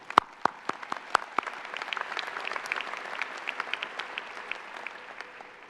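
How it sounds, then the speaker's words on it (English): An audience at a 2016 president's address breaks into applause, opening with a few loud separate claps that swell into steady, dense clapping. "Perhaps another round of applause for all of them"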